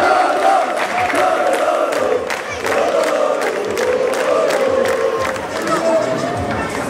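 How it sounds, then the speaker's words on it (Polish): Loud crowd at a Promień Żary team presentation cheering and shouting for Jędrek Pruski, with rhythmic chanting voices and clapping sustained close and strong throughout. "Bardzo ogromne brawa, Jędrek Pruski!"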